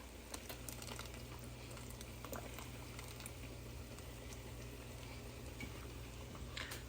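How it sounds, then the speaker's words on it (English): Torborgee oil goes into a simmering bean soup, giving a steady soft bubbling and pattering sizzle with faint scattered pops, low and continuous, with no talking. "This is the Torborgee oil I am already putting in."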